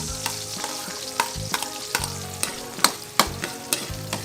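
Garlic sizzles in a hot pan while adobong pusit, squid adobo, is being cooked, a steady close fry punctuated by sharp clacks of a utensil against the pan, with no voices.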